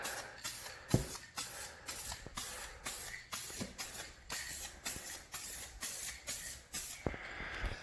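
Spray paint going on as a first, half-coverage coat over F150 fender flares, heard as about a dozen short, quiet hissing bursts in a steady rhythm, with no voices.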